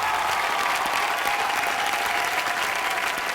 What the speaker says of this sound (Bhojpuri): उनके खातिर एक बार जोरदार ताली मलेशिया।